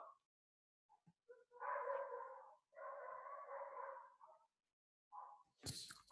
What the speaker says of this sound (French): Est-ce que vous entendez le chien ou pas?